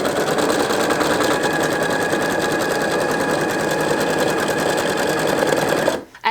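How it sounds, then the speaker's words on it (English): A sewing machine chain piecing quilt pieces runs in one steady, loud, rapid mechanical chatter for about six seconds before stopping abruptly, close by and with no speech over it. "make sure your pieces are perfectly aligned, and sew"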